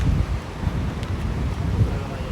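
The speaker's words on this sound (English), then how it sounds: "This is the Atlantic Ocean." Rough Atlantic Ocean sea at night at Puerto de la Cruz, Tenerife, a steady low roar of surf mixed with heavy wind buffeting the microphone, with no clear voices.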